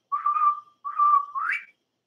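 A person whistles an imitation of a bobwhite quail call: two sustained clear notes followed by a rising upward-sliding note, loud and close against silence.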